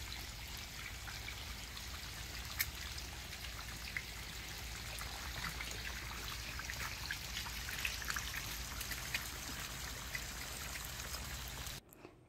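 Irrigation water runs into a banana plant bed on a farm with a steady, soft trickling and splashing flow that carries on unbroken until it stops abruptly at the end.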